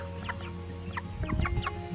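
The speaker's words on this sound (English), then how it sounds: "Chickens, the compost queens." Homestead chickens cluck in short bursts close by, several birds overlapping over a low steady hum.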